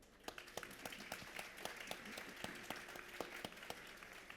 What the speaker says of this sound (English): If you'd like to give more round of applause